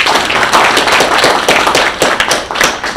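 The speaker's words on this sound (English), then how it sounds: "Let's give Josiah another round of applause" Audience applause for Josiah at a national stakeholders symposium on Utu, loud and close with sharp, uneven hand claps that keep pulsing through the whole stretch.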